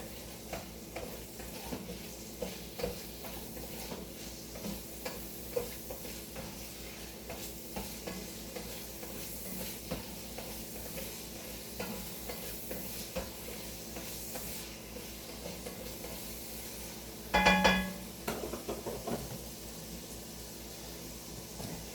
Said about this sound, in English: put the garlic in there. Well, and to saute with the onions for a little bit